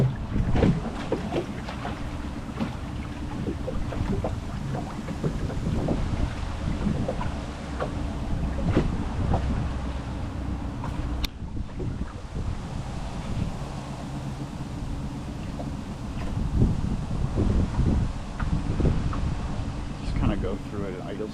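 A repaired boat engine runs at idle on a windy lake, a low steady drone under heavy wind buffeting the microphone, with water splashing and a voice speaking over it.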